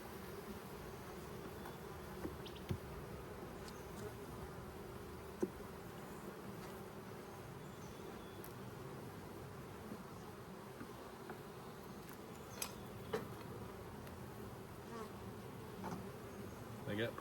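Honey bees buzz steadily around an opened hive during a brood chamber inspection, a continuous hum with a few brief louder passes of individual bees near the microphone.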